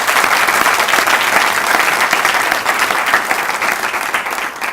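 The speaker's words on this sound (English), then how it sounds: "I think we should give her another round of applause." A crowd at a professorial inauguration ceremony bursts into loud, sustained applause, an even wash of many hands clapping that holds strong throughout before tapering slightly at the end.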